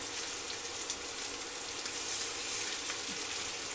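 Pork bites frying in a pan for lemon garlic pork, a steady, close, continuous sizzle and crackle with no talking.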